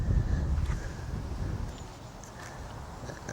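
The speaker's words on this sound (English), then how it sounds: "wind's strong." Strong wind gusts across an open lakeside spot during whip fishing, a steady low buffeting rumble on the microphone that eases slightly after the first couple of seconds, with no talking.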